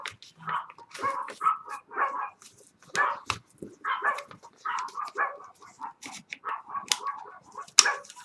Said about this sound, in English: the neighbours must be out because the dogs are barking